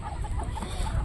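Chickens kept for a household flock cluck softly in a steady, low, continuous murmur, close by, with no voices speaking over them.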